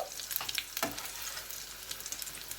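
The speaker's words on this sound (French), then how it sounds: "je prends un beignet et je le verse dans mon petit poêle" Coconut fish fritter batter poured into a small pan of hot oil: a burst of bubbling as it hits, then an even, constant sizzle, close and moderately loud.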